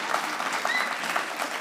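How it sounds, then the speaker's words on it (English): A virtual fan club cheering for the Walkers Rising Stars 2021 show across Pinellas County comes through as a short, steady wash of crowd applause at moderate volume. "we know we've got people cheering all over Pinellas County"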